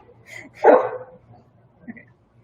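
A pet dog gives a single loud bark near the mic, followed by a fainter short yip a moment later, in an otherwise quiet indoor room with a low hum.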